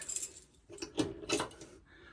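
A set of keys jingles close by as it is handled and set down on a holder inside a Swift Basecamp 2 caravan. The metallic rattles come in three or four short bursts separated by brief quiet gaps.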